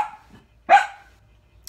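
A single sharp dog bark rings out close by, preceded by a fainter whimper, then quiet.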